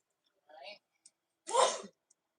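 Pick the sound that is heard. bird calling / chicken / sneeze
sneeze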